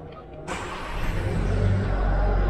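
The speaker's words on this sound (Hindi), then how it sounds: "गाड़ी का मैंने इंजन स्टार्ट किया है" A new Volkswagen Taigun petrol engine cranks and catches after a quiet moment, then settles into a steady, close idle hum.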